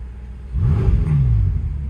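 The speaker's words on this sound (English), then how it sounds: "that sounds insane. Twin turbo V8" A 2018 BMW M6 Gran Coupe's twin turbo V8 revs up hard and holds a deep, roaring exhaust note, loud and close, with no talking.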